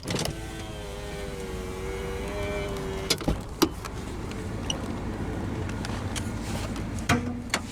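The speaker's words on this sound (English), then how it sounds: "now we'll roll down the driver's window and have a look at the engine bay. The driver's window is automatic down." Driver's power window on a 1998 Jeep Grand Cherokee Limited with a 5.2-litre V8, its motor whirring steadily as the glass lowers, followed by a few sharp clicks and knocks nearby.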